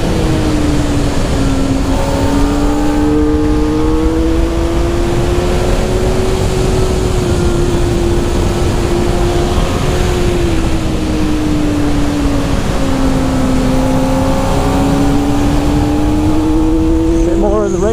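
Close onboard on a racetrack, a 2023 Kawasaki ZX400RR sport bike runs in second gear, its high engine whine rising and dipping through corners under steady wind rush, with a rider talking over it.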